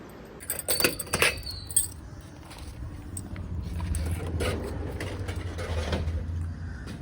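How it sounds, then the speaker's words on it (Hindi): A bunch of shop keys is picked up and jangles in a few bright metallic clinks near the start, followed by low rumbling movement and faint background noise. "उठा लेते हैं यहाँ से दुकान की चाबी और चाबी लेके चलते हैं"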